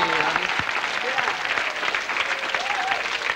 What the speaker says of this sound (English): Give her a round of applause and welcome her.